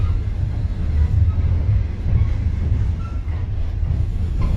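An old green-skinned overnight passenger train rolls along, a loud, continuous low rumble and rattle heard from inside the carriage, steady with slight swells.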